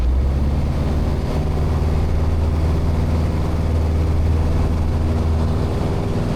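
A French light aircraft's engine runs at full power, a loud, steady low drone with a constant strong rumble that fills the whole moment, no talk over it.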